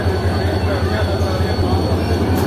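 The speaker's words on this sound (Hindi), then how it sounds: "तो ये आ चुकी है 38 डाउन बाबा फरीद एक्सप्रेस, GU20 ट्रेन के लीड पर है।" Baba Fareed Express (38 Down) rolling into a platform, a steady loud low rumble of rail cars and wheels holding throughout with a faint squeal near the end.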